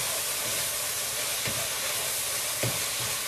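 Vegan buffalo kale salad topping mixed in a hot pan, a loud continuous hiss and sizzle with a couple of faint utensil scrapes.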